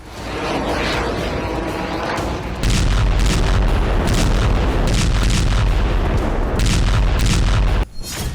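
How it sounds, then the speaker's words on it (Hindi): A strategic missile launched in a test from a Russian nuclear-powered submarine gives a loud, sustained roaring rumble that jumps in intensity partway through and then drops sharply near the end. "उनकी नई परमाणु ऊर्जा से चलने वाली सबमरीन ने रणनीतिक मिसाइल का परीक्षण किया है"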